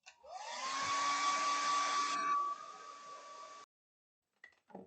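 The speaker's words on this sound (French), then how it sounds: "Ensuite, un coup de sèche-cheveux." A hair dryer whirs up and blows with a steady loud rush, changes pitch briefly, then switches off abruptly, leaving near silence.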